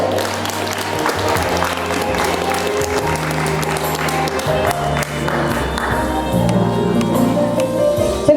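Applause from an audience at a ceremony honouring a veteran of labour at a technical college, steady crowd clapping sustained throughout, loud and close, with some murmuring underneath.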